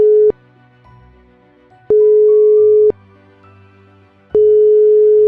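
A telephone call-back tone plays as an emergency medical dispatcher at a French SAMU calls a patient back. It is loud and repeats as long steady tone bursts separated by quiet gaps.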